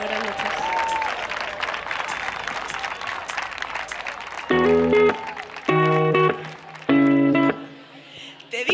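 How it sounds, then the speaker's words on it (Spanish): Applause from the audience at a local variety show in Quart de Poblet's Barrio del Cristo, as a singer is brought on: a few seconds of crowd clapping and murmur, then loud sustained musical chords take over in three bursts. "Fort l'aplaudiment, endavant."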